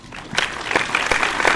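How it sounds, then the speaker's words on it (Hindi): Audience at a Hindi poetry gathering (kavi sammelan) breaks into loud, sustained applause to welcome a poet, a dense wash of clapping that swells and stays steady. "जोरदार ताली स्वागत करिए"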